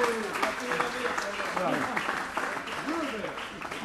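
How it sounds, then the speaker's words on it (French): Applause from a crowd at a local festival celebration in Monceau, a continuous patter of hands heard under someone speaking over a microphone. "on peut l'applaudir"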